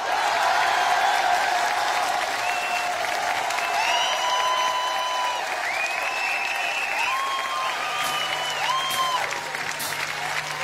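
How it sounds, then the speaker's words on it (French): Steady, loud applause from a large audience at a Johnny Hallyday television show, continuous clapping that fills the whole stretch with little variation. "je vous demande d'accueillir très fort et d'applaudir surtout très fort"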